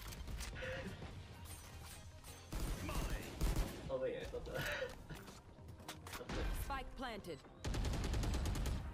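Bulldog rifle fire in Valorant, several bursts of rapid shots rattling out over the course of the clip amid other gameplay sounds, loud and close.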